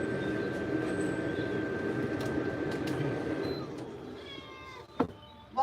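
A cat being groomed after a bath gives a steady low rumbling purr up close, followed by a few short meows near the end.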